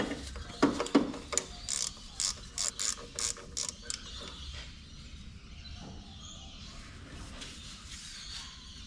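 Ratchet tightening a bolt on a Toyota Landcruiser HZJ75 power steering pump hose with copper washers, a run of crisp rhythmic clicks in quick strokes at close range, then quieter fiddling in the background.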